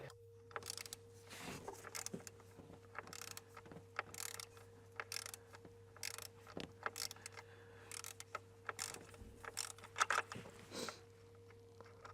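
T25 bit unscrewing the differential pressure sensor on a BMW X3 F25 B47 diesel, quiet irregular ratcheting clicks and metallic ticks over a faint steady hum, nearby and soft, with no speech.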